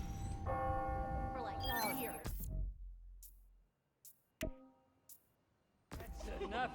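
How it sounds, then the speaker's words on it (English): Church bells ringing on the hour in Spider-Man: Miles Morales, resonant tolls with a long decaying ring, followed by scattered clicks and then sound returning at the end. "Ringing on the hour. When I hear those bells, I remember the last time I was here."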